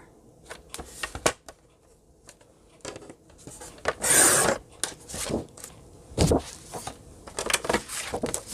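Scissors or a trimmer cutting 8 1/2 by 11 inch cardstock down to 6 1/4 by 8 inches for a glue stick gift box, heard as close, scattered rasping strokes and rustles with a longer scraping cut in the middle, no talking.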